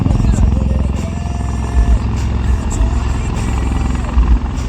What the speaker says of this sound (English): Mark III helicopters of 204 Army Aviation Squadron, flown by Lieutenant Colonel A.S. Rangar